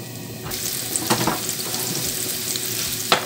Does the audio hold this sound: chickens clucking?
no